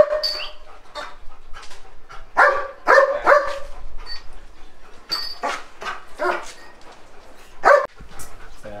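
Belgian Malinois puppies let out a run of high, yappy barks and yips, close by and in irregular bursts, with short whimpers between them.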